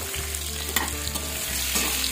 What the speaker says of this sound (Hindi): उबला हुआ आलू जो मैंने पहले से उबाल के रखा था वो तेल में हम डालिए और उसको फ्राई कर दीजिए